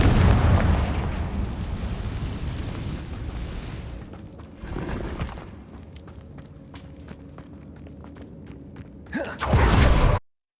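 A Confringo spell blasts inside a cave in Hogwarts Legacy: a loud, rumbling explosion fades into a long, crackling decay of falling debris, then a second sharp burst erupts near the end.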